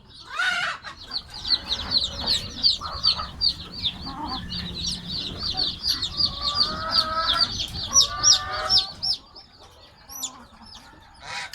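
Young chicks cheep in a rapid, continuous stream of high, thin peeps during Newcastle disease B1B1 vaccination with drops into the nostrils. A few lower clucks are mixed in, close and fairly loud.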